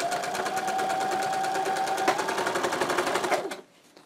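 A Brother Star 60 household sewing machine running a straight stitch, its rapid even needle chatter and motor hum loud and close for about three seconds before slowing to a stop.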